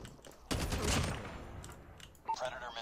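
A short burst of gunfire from a weapon in Call of Duty Mobile, a sudden rattle of quick shots that fades off, followed by faint game sounds and a few soft noises at low volume.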